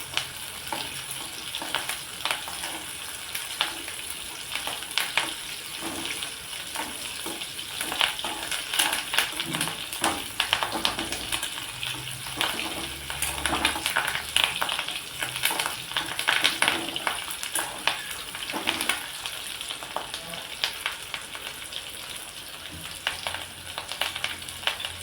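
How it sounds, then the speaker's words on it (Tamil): Curry leaves and two dried red chillies fry in hot oil for a chicken masala gravy, an even, dense crackling sizzle running steadily throughout with light stirring. "கருவேப்பிலை நல்லா பொரியட்டும்"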